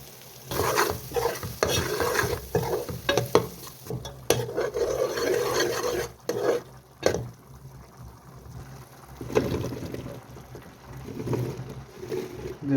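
Mixed masala and red chili fry in a hot pan, with repeated stirring scrapes and clatter over a steady sizzle that rises and falls in bursts.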